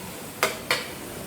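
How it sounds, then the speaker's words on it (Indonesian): Two quick metallic scrapes of a utensil against a pan as chopped onions are stirred for Chinese-style fu yung hai, spaced apart and fairly close, with no talking. "bawang yang saya cencang saya masukin semua. Saya masukin semua. Saya aduk rata"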